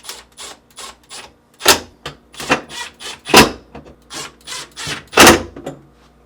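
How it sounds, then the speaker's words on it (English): Screws being reinstalled in a GE refrigerator, heard as a run of sharp close clicks and ratcheting bursts in an uneven rhythm with brief gaps. "Then, reinstall the screws."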